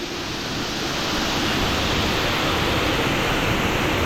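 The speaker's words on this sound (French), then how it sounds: "Magnifique cascade" A powerful waterfall in a misty canyoning gorge roars as a loud, continuous broadband rush, steady and close with no pauses.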